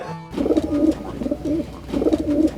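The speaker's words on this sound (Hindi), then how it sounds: "कबूतर" A pigeon coos repeatedly in soft, throaty bursts, close by, with short pauses between each rolling call.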